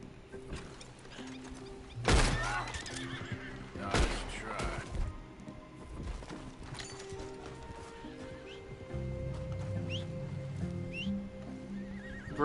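In Red Dead Redemption 2, a horse whinnies loudly twice, with hooves clopping and game-like clatter around it, then quieter background sounds follow.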